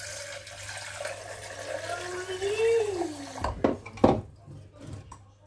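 A litre of water pours into a Thermomix Friend bowl for cooking pasta, a steady splashing stream rising in pitch as it fills, followed by a few close knocks and clatters of the container.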